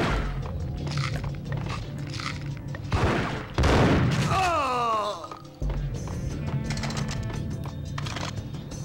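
Gunfire aimed at the player in the game Max Payne: sharp bursts of shots and a loud blast in the middle, mixed with other game noises and someone talking.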